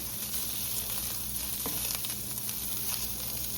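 Sausage frying in a pan for a sausage gravy, a steady even sizzle that holds at constant strength throughout, with no voices.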